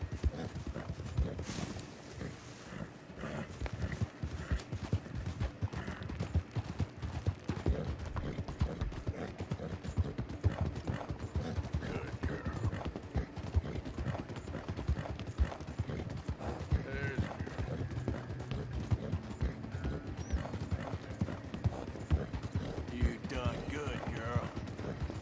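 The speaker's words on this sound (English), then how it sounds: "A horse should be running faster than this." Rapid clip-clop of horse hooves galloping steadily in Red Dead Redemption 2, with a dense rhythmic patter and occasional faint mechanical clicks in the background.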